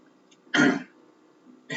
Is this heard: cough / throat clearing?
yes